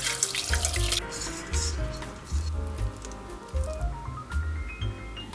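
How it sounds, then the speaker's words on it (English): Hot soba broth runs through a sieve into a heat-proof container, a steady close splashing and pouring stream with dripping and rising gurgling tones as the vessel fills. "we're going to strain it through a sieve into a heat-proof container"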